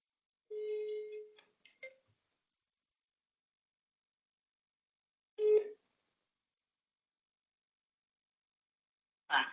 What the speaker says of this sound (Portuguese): vou ligar aqui para o atendimento Max Telefonia. E a ligação está sendo feita.